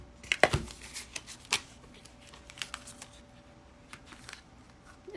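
A deck of cards being cut and shuffled during a spirit guide reading, a few soft papery riffles and taps at irregular moments, close but quiet, with no talk.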